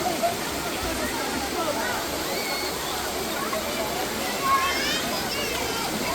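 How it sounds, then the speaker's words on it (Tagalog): Clear spring water flows steadily into the main pool at a spring resort in Malabog, Davao City, making a constant close rushing wash with no pauses throughout. "Tuloy-tuloy lang yung agos niya."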